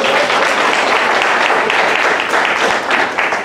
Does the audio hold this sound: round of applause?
yes